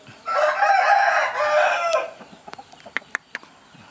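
A rooster, a fighting cock of good build presented for sale on a farm, crows loudly and close in one long drawn-out call, followed by scattered short clucks and clicks.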